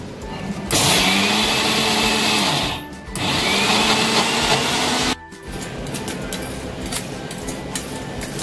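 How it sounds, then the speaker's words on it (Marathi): A kitchen mixer grinder whirs loudly as it coarsely grinds soaked lentils for Vidarbha-style vada, running in several bursts with brief pauses between them. "आता आपण हे मिक्सरमध्ये असं जाडसर दळायचं"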